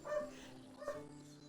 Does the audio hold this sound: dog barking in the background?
yes